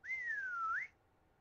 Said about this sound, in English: I'm going to whistle loudly.